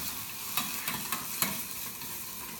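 Onions fry gently in a pan under a soft, steady sizzle, with several light scraping taps as they are stirred, quiet and close, with no talking.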